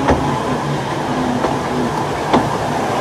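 A train on the Welshpool and Llanfair Light Railway rumbles past with a steady low roar, broken by a few sharp rail clicks and wheel knocks at uneven intervals, loud and close, with no voices.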